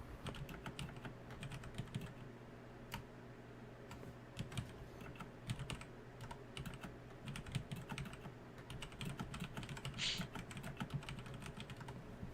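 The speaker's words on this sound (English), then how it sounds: "She's typing things to me." Rapid clicking keystrokes on a computer keyboard patter continuously in irregular bursts, close and moderately quiet, over a low steady background hum.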